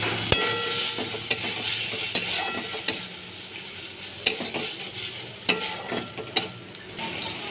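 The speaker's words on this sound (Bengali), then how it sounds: "আদা দিয়ে আমি ভালো করে নেড়ে চেড়ে নেব।" Ginger, turmeric and vegetables stirred in a pan, a spoon scraping and clinking against the metal in irregular strokes over a soft continuous sizzle of frying, close and clear with no voices.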